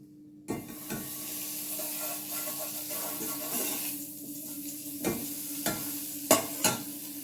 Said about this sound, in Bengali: এবার একটি কড়াই আমি গরম করে নিয়েছি। এর মধ্যে দেব এই সামান্য একটু বাটার।